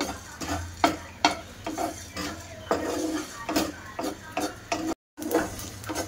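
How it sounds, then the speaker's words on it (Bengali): Repeated scraping and rattling of fennel, cumin and black pepper being dry-roasted in a hot pan, irregular strokes close by, with no talking. "মশলাগুলো সব ভাজা করে নেব।"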